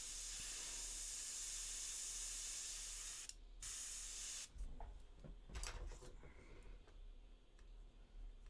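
Airbrush or spray paint hissing steadily while base-coating a miniature figure, loud and continuous for about three seconds, then stopping, followed by a few short bursts and faint handling noises.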